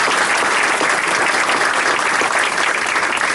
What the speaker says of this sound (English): Join me in applauding.